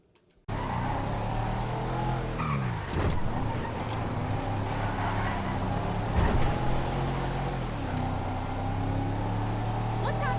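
Engine of a Dubsta 2 SUV in the GTA video game, a steady droning idle and rumble that swells and revs a few times over roughly ten seconds, with faint background noise.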